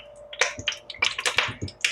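Hot oil in a pot, tested with a bit of water before adding beef for pot roast, spits and crackles in rapid close snaps with a light sizzle between them.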